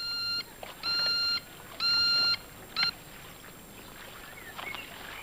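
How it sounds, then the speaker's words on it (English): The bleeper tracking device from From Russia with Love gives three sustained electronic beeps and a short fourth blip at uneven intervals, then falls to a quiet background hiss. "there's this one here, which is the bleeper, which was used in Russia with Love"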